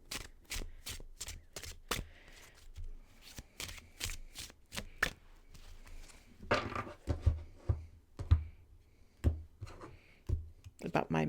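A deck of cards is shuffled up close, giving crisp riffling clicks and snapping bursts in quick rhythmic runs, with short pauses between rounds of shuffling.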